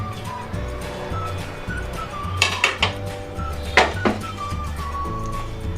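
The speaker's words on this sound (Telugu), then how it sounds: "ఆ గిన్నెలో ముందర బెల్లం వేసుకోవాలి." Jaggery dropped into a cooking vessel while making wheat rava kesari, giving a few sharp metallic clinks and knocks in two short bursts over a low steady hum.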